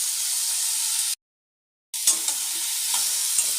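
Broccoli with turmeric being stirred as it fries in a pan, a loud hissing sizzle broken by a short gap of silence, then sizzling again with scraping stir strokes.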